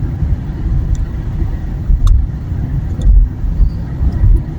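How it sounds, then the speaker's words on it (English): A car drives on UK roads on a Monday morning, a loud, steady low engine and road rumble heard from inside the cabin, with a few faint clicks and swells in the drone. "UK Monday morning driving."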